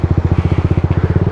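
A TVS Apache RR310 motorcycle engine at a snowy mountain border crossing in Spiti, a fast, even chugging idle pulse, loud and close, with no talk over it.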